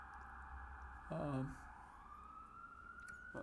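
A siren on a New York street wails faintly from a distance, its tone slowly rising beneath a steady background drone, with a brief voice-like sound partway through.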